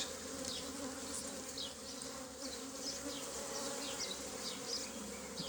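Dense, steady buzzing of many honey bees inside a hive, continuous and close, with faint higher whirs of individual bees darting past.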